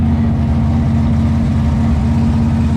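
A race car engine at a racetrack in Northwest Florida rumbles at idle, a loud, steady, deep throb that stays unchanged from start to end with no voices.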